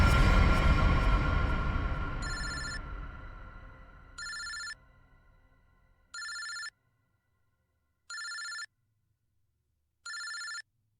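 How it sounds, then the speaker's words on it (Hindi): A telephone bell ringing in repeated short bursts, four or five rings evenly spaced about two seconds apart, the first rising over fading background noise and the rest alone in near silence. "ये किसका फोन है?"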